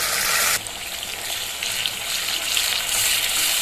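Onion paste hits hot oil with cardamom and cumin for Hyderabadi chicken dum biryani, a loud, close, steady sizzle that flares at first and then settles into continuous frying.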